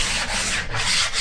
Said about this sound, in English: So a good sanding first.